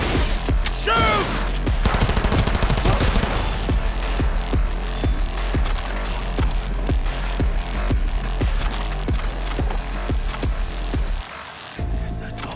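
Sustained automatic gunfire in the futuristic shooter Cyberpunk 2077, with fast, evenly spaced loud shots over a constant low rumble for about eleven seconds, then cutting off abruptly before one last burst.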